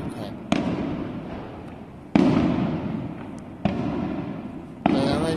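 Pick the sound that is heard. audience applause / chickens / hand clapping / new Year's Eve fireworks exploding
new Year's Eve fireworks exploding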